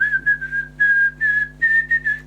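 A clear whistled melody of a song, played from an old record, phrased in short notes and sustained tones against a faint steady hum.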